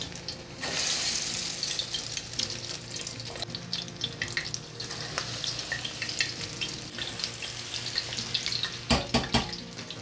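Ground beef kebabs frying in hot oil, Kenyan style, a steady close crackle and sizzle with scattered pops and spits and a few sharper clatters near the end.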